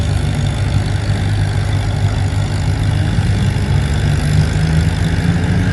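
A Farmall tractor engine working hard in a tractor pull, a steady, loud, low drone that holds even and unbroken from start to finish.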